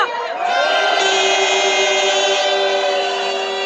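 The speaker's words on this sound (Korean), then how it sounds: "응원과 격려의 박수를 부탁드리겠습니다" A large crowd at a candlelight rally in Korea cheers and shouts, a loud sustained roar of many voices with ringing tonal whoops, swelling after a brief start and holding strong to the end.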